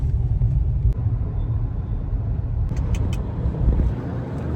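Steady low road rumble inside a moving car on the way to Gurgaon, a continuous engine and tyre drone with a few faint high ticks, no talking.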